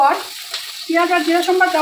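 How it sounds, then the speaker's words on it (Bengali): Onion and cumin tempering in a wok sizzles with a steady, soft background hiss while a voice talks over it, the frying staying fairly faint beneath the speech throughout. "এখন আমি কড়াইতে পেঁয়াজ সম্বার দিলাম,"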